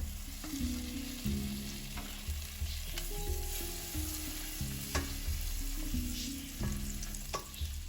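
Butter melting in a hot pan on low heat, with a steady soft sizzle running throughout beneath occasional utensil clinks and a faint constant background hum.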